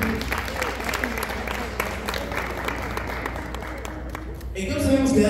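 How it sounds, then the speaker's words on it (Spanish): An audience at a live show applauds dancers, dense crowd clapping sustained and fairly loud, with voices mixed in and the clapping swelling toward the end. "Fuerte el aplauso para ellas, que se escuchen."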